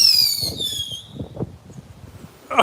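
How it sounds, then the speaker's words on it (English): A bottle rocket launching outdoors in strong wind during a hurricane, a whistling squeal that fades as it flies off, then faint crackles and gusty rustle, ending in a sharp burst. "let's see what happens when we try to steady a bottle rocket and light it"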